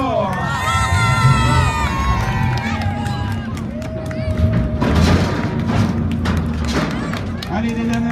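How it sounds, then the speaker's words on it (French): Rally spectators at the finish of the Rallye Famenne cheer and shout over a busy, loud mix of crowd noise, with thumps and a clear voice talking through it. "on va encore les applaudir bien fort."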